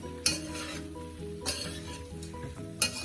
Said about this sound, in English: you just want to give that a stir, just like that